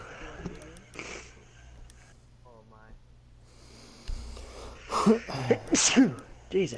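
A single sharp human sneeze bursts out near the end, loud and close, followed by a throat-clearing snort, after a quieter stretch with brief electronic game beeps and soft movement.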